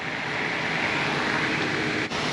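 A slurry tanker sucking dirty yard runoff water out of a pit beside a farm shed, a loud, steady, close roar of pumping and rushing air with one brief dip.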